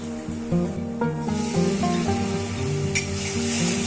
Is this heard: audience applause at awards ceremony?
no